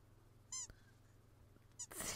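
A Sims 4 cat gives two short, separate meows, the first faint and the second louder and closer, over near silence.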